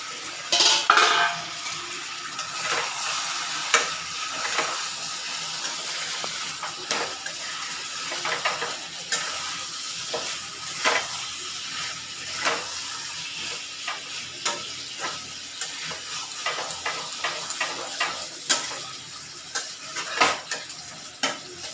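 Meat sautéed and stirred in a covered pan with ground spice paste, giving steady sizzling broken by repeated clinks and scrapes of a utensil against the pot, close and fairly loud, with no talking.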